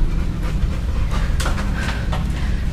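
Several tired pit bulls pant hard with their tongues out, a steady, rapid, close huffing rhythm that runs without a break under faint background noise.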